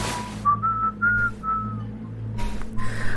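Dr. Watson whistles a short tune in the Sherlock Holmes Crimes & Punishments video game, a few clear, soft notes in sequence over a low background hum, then a brief rustle of movement.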